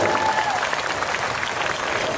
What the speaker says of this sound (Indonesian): Mana tepuk tangannya bagi Yesus?